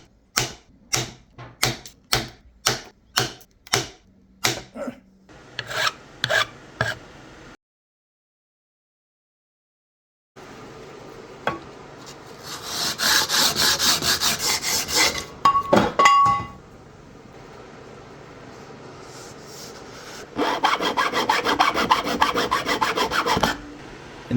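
Hand sanding on a wooden prototype guitar: a quick run of short, regular rasping strokes, a pause of silence, then longer continuous scrubbing passes, close and fairly loud.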